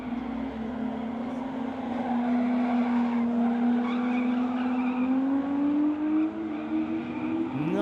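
Drift cars running in tandem, a BMW chasing a Nissan 350Z, engines holding a loud sustained howl that climbs near the end, with tires squealing and skidding throughout, close and continuous.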